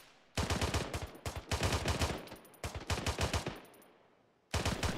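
Loud, close automatic gunfire in the military game ArmA 3, long sustained bursts of rapid rounds separated by brief gaps, with a fresh burst starting at the end and no talking.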